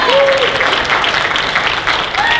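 An audience at a convention opening ceremony claps loudly and steadily, a thick close burst of applause with a few scattered cheers and whoops over it.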